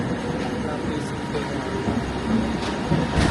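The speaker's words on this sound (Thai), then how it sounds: "ได้รถไฟมาแล้วทุกคน" A metro train pulls into a station in Kuala Lumpur, giving a steady rumbling roar with faint rail clatter that swells slightly near the end, while voices talk over it.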